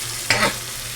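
Snake gourd curry sizzles in a pan on a gas stove while being stirred, with one brief scraping stir over a low, continuous frying crackle.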